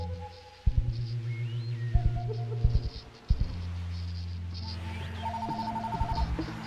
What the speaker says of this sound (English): The phone rings when it rings.